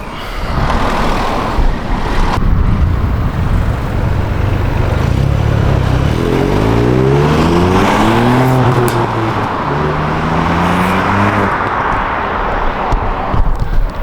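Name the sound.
Ford Puma ST stock exhaust during flybys, popping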